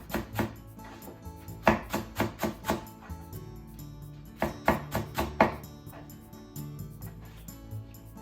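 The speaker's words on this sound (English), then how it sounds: "And just slice thinly" A knife slices cabbage thinly on a cutting board in quick rhythmic bursts of crisp chops, a run of about a dozen close, distinct cuts with short pauses between groups.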